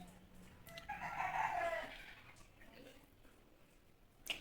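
Brooding hens on a poultry farm clucking softly, a short murmuring burst of low clucks in the middle, faint against a quiet room, with a brief clatter at the end.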